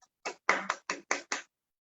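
A handful of claps welcoming a speaker at a Modicare business training session, six separate bursts in a brief uneven rhythm, close and fairly sparse like a small group or a single pair of hands.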